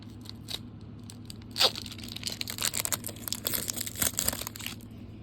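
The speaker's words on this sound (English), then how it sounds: "If I cut the packs open, that might be easier." Foil Pokémon card packs being cut and torn open, close up, with crinkly crackling bursts and scattered tearing rustles spread over a few seconds, no voices.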